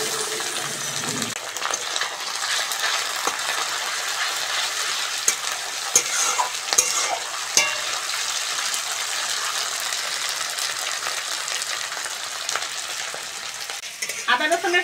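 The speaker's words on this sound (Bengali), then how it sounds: "এবার আদা রসুন বাটাটা দিয়ে দেবো।" Ginger garlic paste and onions fry in a pan with a loud, continuous sizzle, while metal stirring clinks and scrapes come through repeatedly and grow busier near the end.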